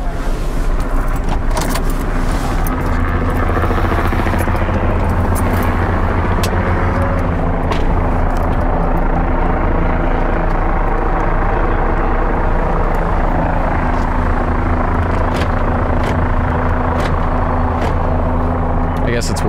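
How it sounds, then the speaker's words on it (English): A news helicopter flies overhead with a loud, continuous rotor and engine drone that dominates throughout, while vehicle noise and occasional clicks and rattles sit beneath a voice talking. "Tay, when you're done with the news helicopter"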